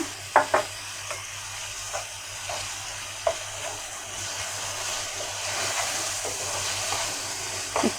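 Ginger, garlic and cumin paste with ground coriander, garam masala and pepper fries in a pan for a chicken dish, a soft steady hiss broken by occasional sharp scrapes and taps of stirring.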